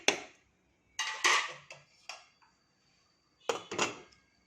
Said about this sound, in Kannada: ಕುಕ್ಕರ್ ಮುಚ್ಚಳ ಮುಚ್ಚಿ